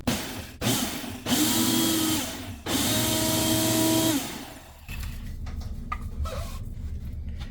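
A kitchen grinder pulverizing dried zucchini into powder, loud whirring motor bursts of a few seconds each with brief pauses between, then a lower rattling spin as it winds down.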